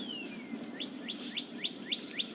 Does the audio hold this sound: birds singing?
yes